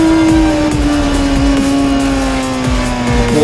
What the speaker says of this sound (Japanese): もうエンジンの音がね、ガンガン聞こえます。